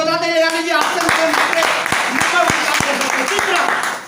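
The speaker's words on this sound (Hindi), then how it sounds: "एक बार जोरदार ताली लगा लीजिए" A crowd of seated listeners breaks into clapping at a motivational talk, a ragged burst of claps that carries on for several seconds, close and lively, following a brief held tone at the start.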